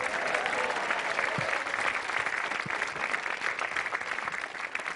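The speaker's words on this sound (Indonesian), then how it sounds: "terima kasih sekali lagi tepuk tangan untuk yang jelek" Steady, dense audience applause at a stand-up comedy battle, a full room clapping continuously at an even level from start to finish.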